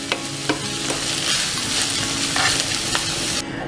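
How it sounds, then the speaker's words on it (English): Garlic frying in a pan, a steady close sizzle broken by a few sharp clicks and scrapes of a utensil stirring, with no talking, before the sound drops abruptly at the end. "And just stir that around. And now once I get some liquid in here, that will prevent the garlic from overcooking."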